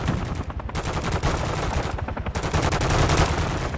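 Rapid bursts of gunfire from Call of Duty Modern Warfare 3 on a sniper-support mission, dense and loud throughout with repeated cracking shots and short gaps between volleys.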